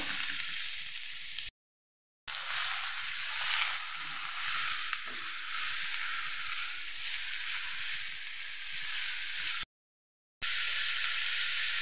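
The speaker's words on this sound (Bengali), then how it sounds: "ওর জন্য আলু দিয়ে দেবো, একসঙ্গে আছে ভেজে নেব।" Potatoes frying with spices in a pan of oil give a steady, close hiss of sizzling all through, broken by two short silent gaps.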